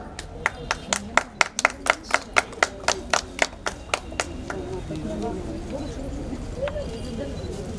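A small audience claps at a ceremony honouring women journalists from a lake city press club, a steady run of sharp, evenly spaced claps that fades out after about four seconds into a background murmur.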